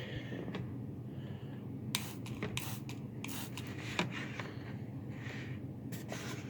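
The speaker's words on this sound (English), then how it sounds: "Spraying vinegar" Repeated short hissing sprays from a pump bottle, several bursts spaced irregularly over steady background rubbing and scraping noise.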